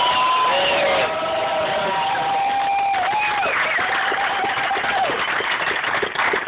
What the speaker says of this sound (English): Can we just give a big, huge congratulations, a big cheer to Jack and to Patricia for 25 years of love and commitment.